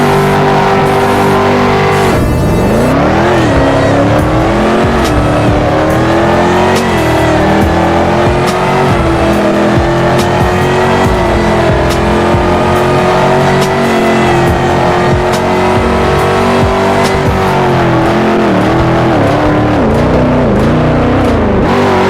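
A Ford Mustang in a drag race in the video game Car Dealership Tycoon: the engine revs up hard and roars steadily through rising gear pitches, sustained and close, with no voices.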